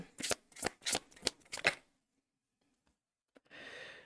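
Tarot cards being shuffled by hand in a quick run of about six riffling bursts, close and fairly quiet, followed by a pause and a short rustle.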